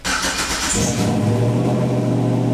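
A car engine with a new exhaust cranks and catches, then settles into a low, steady idle rumble close by.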